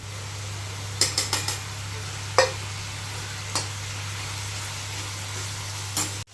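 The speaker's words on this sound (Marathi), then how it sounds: "आता चांगलं दहा ते पण दहा मिनटं जरा मसाल्याला फ्राय करून घेऊया" Masala of onion, chili powder and turmeric fries in a pan over a steady mechanical hum, broken by a few sharp scrapes of a spoon stirring against the metal.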